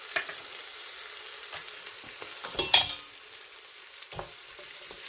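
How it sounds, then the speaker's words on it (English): Garlic and ginger mix hitting a pan over medium heat, giving a soft, steady sizzle with a few light stirring clicks and one brighter spatter burst near the middle. "You want to add your garlic and your ginger mix."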